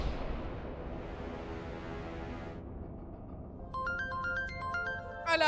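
A mobile phone's ringtone for an incoming call starts partway through, a bright repeating electronic melody that grows louder near the end, after a stretch of low background sound and music.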